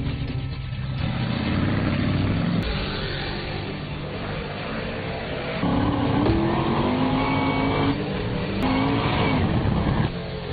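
A race car is test driven on a track, its engine droning and revving up and down loudly as it circuits, with rising pitch sweeps on acceleration and no talking over it.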